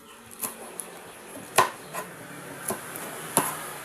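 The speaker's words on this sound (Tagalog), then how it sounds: "Ito yung hinihiwa-iwa kung maliit siya" A knife chops Baguio beans on a board in the kitchen with scattered, irregular sharp knocks, some louder than others, close by and without talk.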